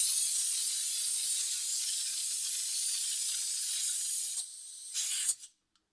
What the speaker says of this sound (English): I'm going to insert it and open the valve on the extractor